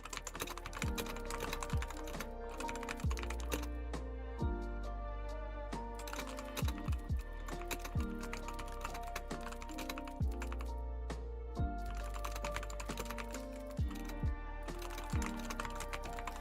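Computer keyboard typing: a steady run of rapid click-clack keystrokes at close range, with brief pauses, over a sustained tonal background.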